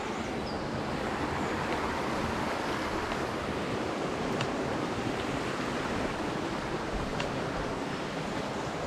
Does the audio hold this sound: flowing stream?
yes